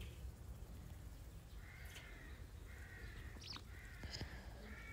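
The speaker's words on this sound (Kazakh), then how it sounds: "Қарғаның дыбысы да өзінше бір табиғатқа үлесін қосып жатқандай." Crows cawing in a quiet village, several faint, distant caws spaced a second or so apart over a low outdoor background.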